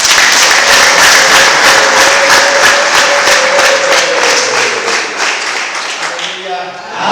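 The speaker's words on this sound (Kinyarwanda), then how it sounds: "Reka dusuhuze mu izina rya Yesu Kristo dukomere Imana amashyi." A church congregation applauds together in a burst of rapid, loud, rhythmic clapping that fades toward the end, with voices mixed in.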